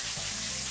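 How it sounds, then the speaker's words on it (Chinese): Minced chicken or beef stir-fried in a hot wok after ginger, garlic and chili paste, giving a loud, steady, close sizzle with a hissing, bright fizz and no pauses. "倒入鸡肉或是牛肉末翻炒"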